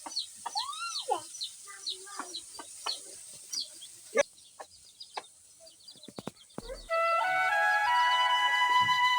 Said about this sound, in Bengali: তো এখানে পাঁচটি মুরগির বাচ্চা আছে